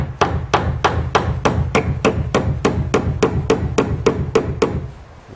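A hammer drives 1 3/4 inch nails into a wooden shed fascia board, a rapid even series of about fifteen sharp close strikes over steady low background noise, with no talking.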